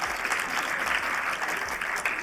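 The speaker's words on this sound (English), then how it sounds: "Round of applause for the models and the dancers." An audience claps steadily and densely for the models and dancers at a Somali-Canadian cultural night, the applause even and sustained throughout.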